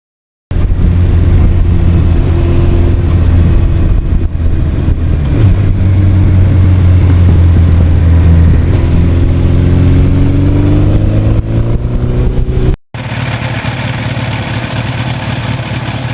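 A 1982 Suzuki GS1100E motorcycle engine runs loud and close, a steady throaty drone whose pitch climbs and shifts as it pulls, with wind rush and an abrupt cut near the end before the engine sound resumes.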